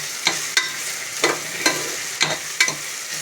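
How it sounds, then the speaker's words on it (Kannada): Biryani masala frying in a pan and being stirred, close crackling sizzle with six regular scraping strokes of the spoon, no talking. "ಇದು ಕೂಡ ಹಸಿ ವಾಸನೆ ಹೋಗಂಟು ಚೆನ್ನಾಗಿ ಫ್ರೈ ಮಾಡ್ಕೊಳ್ಳೋಣ."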